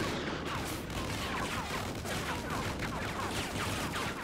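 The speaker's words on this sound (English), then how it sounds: "this is another section where you get to use the remote sniper" Gunfire from a remote sniper rifle in a Call of Duty mission comes as a series of sharp cracks in an irregular rhythm, heard over a busy background of battle noise at moderate loudness.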